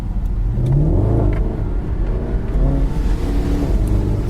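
A car engine revs and strains at close range while driving along a muddy track, its low drone rising and falling unevenly with bumps and wheel noise.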